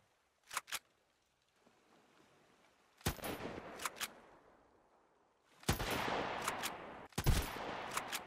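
Enemy gunfire in the survival game Sunkenland: a few sharp, fairly distant single shots in short pairs, then louder, closer bursts of fire with some echo, no talking.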